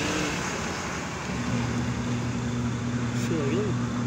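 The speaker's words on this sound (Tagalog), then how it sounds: "sinabitan natin siya ng ammeter at ating siyang paandarin kung okay siya" Washing machine wash motor running on test with an ammeter attached, giving a steady low hum that starts partway through, under continuous background noise and a person talking.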